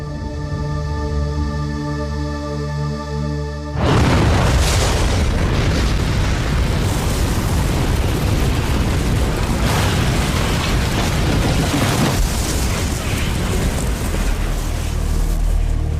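A steady droning tone gives way to the sudden loud blast of the Oklahoma City bombing of the Murrah federal building, followed by a sustained, heavy roaring rumble that fills the rest of the time.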